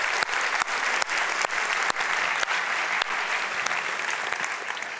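A crowd at the opening of a makeathon event applauds its sponsors, with dense, even clapping that holds loud and steady throughout.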